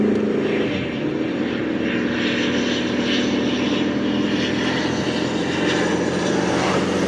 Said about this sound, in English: the stupid airplane wanna pass by while I'm trying to run some tests